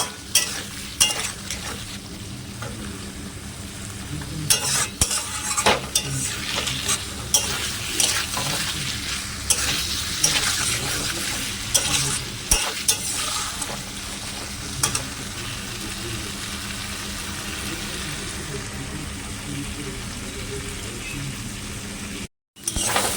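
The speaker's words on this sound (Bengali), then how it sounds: "আলুটা দিয়ে বেশ সুন্দর করে কষাবো আবার।" Potatoes sauté with spices in a pan for a rohu fish curry, giving a steady moderate sizzle broken by irregular stirring scrapes and clatters throughout.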